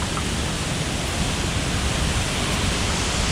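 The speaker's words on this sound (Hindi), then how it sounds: "दूसरा वाटरफॉल।" Waterfall at Neer Gaddu in Rishikesh, a steady, loud, broadband rush of falling water that stays unchanged throughout with no other sounds.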